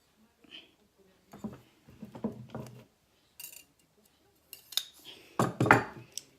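A cup lid handled on a hard surface gives light, sparse clinks and taps of ceramic or glass, scattered in small clusters and fairly close, with quiet gaps between.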